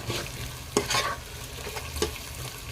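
Tomatoes with ginger garlic paste sautéing in a pan for mushroom biryani, a steady close sizzle broken by a few sharp scraping stirs of the spoon, no voices.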